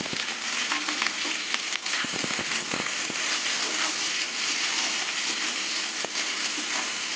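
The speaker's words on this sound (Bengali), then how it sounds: "তেলও গরম হয়ে গেছে এবার আমি পেঁয়াজটা ভেজে নেব" Onion frying in hot oil in a pan gives a loud, steady crackling sizzle throughout, with a few brief pops and spoon taps close by.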